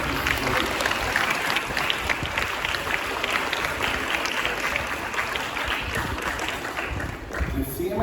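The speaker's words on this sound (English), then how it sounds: "Big round of applause for that." An audience applauds at an event honoring the Kristu Jyoti institution, with a dense, steady wash of clapping that holds for the whole stretch and fades slightly at the very end.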